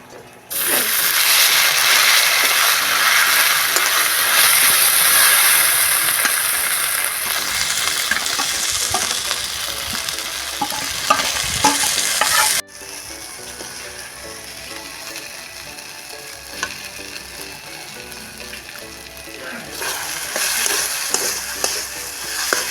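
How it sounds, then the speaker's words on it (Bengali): Pieces of taro (mankochu) frying in hot oil produce a loud, dense sizzle that drops abruptly to a quieter, steady crackle partway through, with occasional scraping stirs. "দেখুন, আমি আবার দিয়ে দিচ্ছি তেলের মধ্যে মানটা।"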